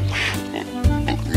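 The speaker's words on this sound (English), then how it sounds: "Ooh, a pig." A pig oinks in short nasal grunts, close and fairly loud, in a quick cluster of two or three snorts with music or other sounds faintly behind.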